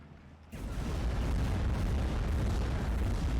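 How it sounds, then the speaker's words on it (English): Artillery strike in the WWII strategy game Steel Division: Normandy 44, a sudden heavy rumbling onset after half a second of quiet, then a sustained dense roar of blasts filling the rest of the moment without voices. "I think this is the artillery piece that comes down all at once"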